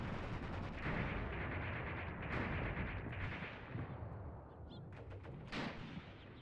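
Steady WWII battle din from the Mius Front war simulation: dense, continuous rumble of distant gunfire and artillery with scattered sharper shots, heard alone without talk.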